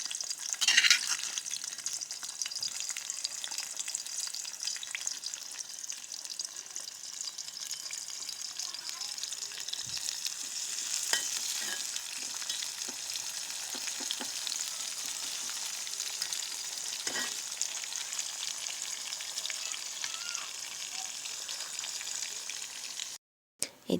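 Sliced bitter gourd fries in hot oil with a continuous, even sizzle and occasional stirring scrapes, steady throughout before a brief cutoff at the very end.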